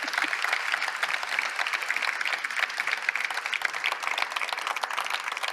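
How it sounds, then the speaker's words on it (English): Warm, continuous audience applause fills a conference plenary hall, dense and even clapping from a large crowd with no talk over it. "Please, a warm applause again for Julia."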